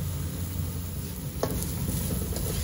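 Chopped onions sizzle in hot oil left in the pot after fried meat for a tandoori chicken gravy, a steady close hiss with a sharp clatter midway and no talking.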